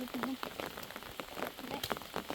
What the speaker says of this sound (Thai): มื้อนี้ฝนตกหมดมือแล้วเนาะ